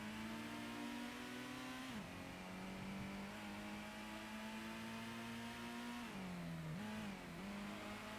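A Mazda RX-7 race car in Gran Turismo holds a steady, buzzing engine drone throughout, with brief pitch dips at gear changes as it revs back up, and no talking.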